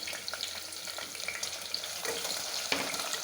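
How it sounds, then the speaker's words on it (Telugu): Chopped onions frying in a pan with boti and liver pieces, a steady close sizzle with occasional stirring clatter and no talk. "ముక్కలన్నీ బాగా వేగాక ఇందులోకి తరిగి పెట్టుకున్న ఎర్రగడ్డలు వేసి వేయించుకోవాలి"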